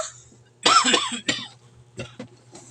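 A person sick with a fever coughs in a short burst of harsh, close coughs, then a pause and a couple of fainter throat-clearing coughs over a low background hum.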